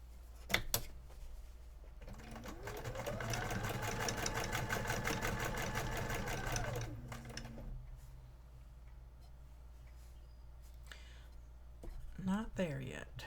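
Sewing machine stitching in a fast, even run of needle strokes for about six seconds while machine quilting in a studio, then stopping; a voice speaks around it.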